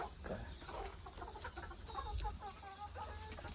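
A rooster and chickens cluck and chatter close by in a farmyard, with a low steady rumble underneath and occasional sharper calls.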